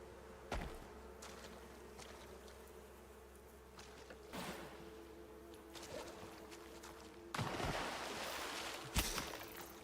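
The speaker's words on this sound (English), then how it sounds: "I'm hearing bees." Bees buzz inside a cave in the survival game Icarus, a faint, steady insect drone under low ambient rumble, broken by several louder rustling bursts.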